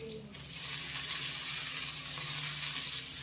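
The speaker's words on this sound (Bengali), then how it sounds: "আর পেঁয়াজটাকেও এখন একটু উচ্ছের সঙ্গে ভেজে নিতে হবে, যেন পেঁয়াজের কাঁচা গন্ধ না থাকে।" Chopped onion frying with bitter gourd in a hot pan, a steady loud sizzle that holds evenly throughout with no talking.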